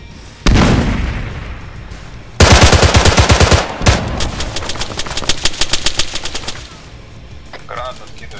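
Gunfire in the Arma 3 military video game: a sharp single shot, then loud rapid automatic bursts that trail into a run of evenly spaced shots and fade, with some echo.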